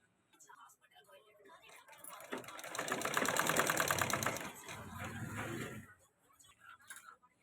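Faint sewing machine stitching a baby's cloth nappy, a soft rattling whir building and then fading over several seconds, with a quiet voice speaking nearby.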